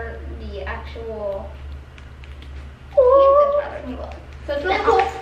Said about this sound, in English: It's a little cat.